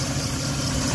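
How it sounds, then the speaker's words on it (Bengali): Toyota Hiace Super GL van engine idling steadily after being started, a continuous low rumble heard close up for about a second with no talking. "তো ফ্রেন্ডস দেখুন গাড়িটি স্টার্ট করেছি, গাড়িটির সাউন্ড দেখাচ্ছি গাড়িতে।"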